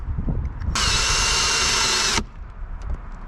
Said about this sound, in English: we're gonna use a 1 1/8 Forstner bit